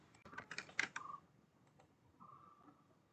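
Rapid clatter of computer keyboard keys being typed, a quick burst of close, crisp clicks followed by a few softer taps, with no talking.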